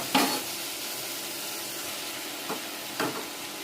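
Eggplant and tomato sautéing in a pan give a low steady hiss, broken by about three brief stirring scrapes near the start and later in the clip.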